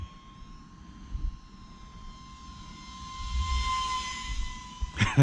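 A small E-Flite UMX MiG-15 RC jet with a 28mm electric ducted fan whines steadily while flying in to land, its tone swelling nearer midway before a sharp thump at the end, with no talking.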